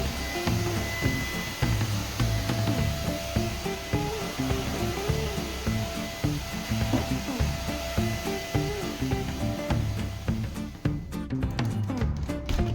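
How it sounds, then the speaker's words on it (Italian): A vacuum cleaner drones steadily while cleaning a bedroom, its motor whine and airflow running continuously with shifting pitch and bumps as it moves, with no talking. "ho aperto la finestra perché prenda un po' d'aria alla camera e passo l'aspirapolvere"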